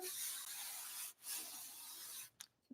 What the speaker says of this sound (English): So the first thing that I will do now is sanding